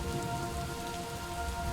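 Steady rain falls in the puzzle video game Superliminal, a constant hiss of drops pattering on a surface, moderately quiet and unbroken, with no voices.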